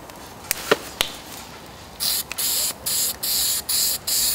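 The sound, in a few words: spraying fireproof paint from aerosol can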